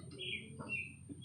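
A few faint, brief bird chirps and coos in a backyard kept with pigeons, dogs, goats and ducks. The short calls come in quick succession over a low background hum.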